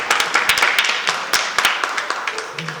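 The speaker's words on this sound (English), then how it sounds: "I usually get a clap after my poems." Sparse clapping from a small audience after a poem reading at a live performance, with a handful of sharp, uneven hand claps close by that thin out over a few seconds.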